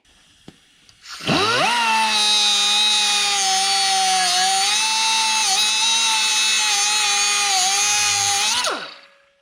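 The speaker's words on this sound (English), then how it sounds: "I need to cut one of these pieces of threaded rod 3 feet long." A power tool spins up and cuts through a piece of threaded rod for a homemade metal Christmas tree, holding one loud, steady high-pitched whine for about seven seconds before winding down, close by with no talk.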